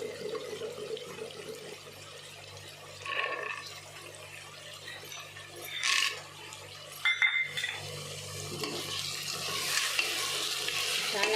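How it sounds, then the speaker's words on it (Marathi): Pigeon peas and peanuts are stirred into hot spiced oil for Marathi masala khichdi, a soft sizzle and frying hiss under scraping spoon strokes and brief clinks of the pan, close and moderately quiet. "चला आता थोडं परतून घेऊन त्याच्यामध्ये मी तुरीच्या शेंगाचे सोले"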